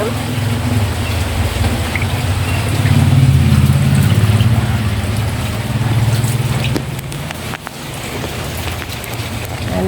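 Floodwater has entered a house, giving a steady loud wash of rushing, sloshing water with broadband noise throughout, and a voice speaking over it.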